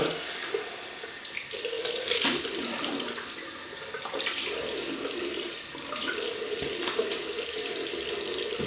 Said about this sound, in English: Right, I'll just rinse that off now.